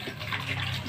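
Sprite soda poured into a container while mixing a drink, giving a steady close liquid splash and fizz through the whole short moment, with no talk over it.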